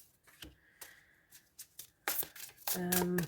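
A tarot card deck is shuffled by hand in quick bursts, overhand then riffle, ending in a longer loud riffling flutter, close up with speech in between.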